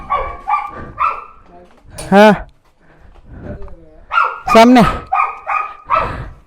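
A household dog barks in short, loud, close bursts, two sharp barks standing out amid a run of rhythmic woofs, with a person speaking briefly in between.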